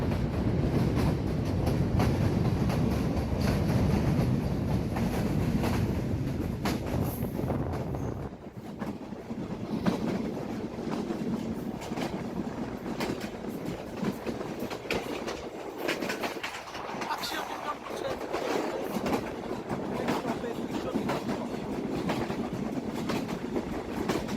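Chitra Express passenger train running on the tracks near Ishwardi Junction, a loud steady rumble with rhythmic wheel clatter and wind buffeting the microphone, dipping briefly before rising again.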